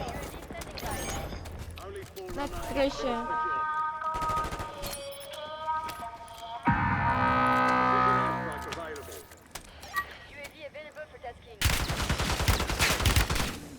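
Gunfire in a Squid Game-themed video game comes in short bursts near the start and middle, then a sustained loud rattle of automatic fire at the end, with a player talking over much of it.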